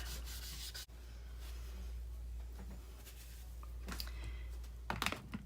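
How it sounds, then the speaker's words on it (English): Glue being wiped off a book by hand, quiet rubbing and scuffing strokes with a couple of sharper handling sounds near the end. "I must have laid it on some glue there on the book, so I'm gonna wipe that off."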